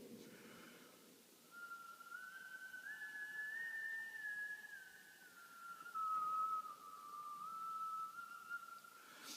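A steady, sustained whistling tone from a brass mouthpiece, wavering slightly in pitch and swelling louder and softer over several seconds, with no talking.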